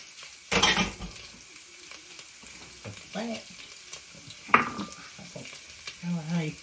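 Chopped onion and garlic sizzle in leftover oil in a pan for Filipino pancit. A loud hiss bursts in early, then softer frying continues with utensil scrapes and clinks as the mixture is stirred.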